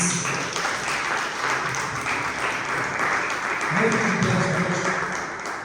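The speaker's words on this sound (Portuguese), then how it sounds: "Aplauda o Senhor, em nome de Jesus" Church congregation applauding the Lord together, a steady wash of clapping that swells slightly toward the end, with faint voices mixed in.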